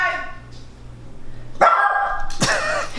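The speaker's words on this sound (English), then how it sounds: "You got the dogs barking" Dogs bark in a few sharp, loud bursts close by, with a low hum running underneath and no talking.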